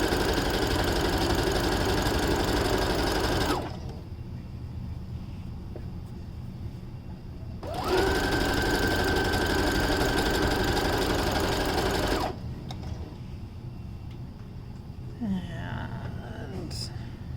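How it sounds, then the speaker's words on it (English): A sewing machine running straight gathering stitches in the round, in two steady bursts of about four seconds each separated by quiet pauses, close and fairly loud with a constant mechanical hum. "So I'm just going to stitch the first one, and this is stitching in the round."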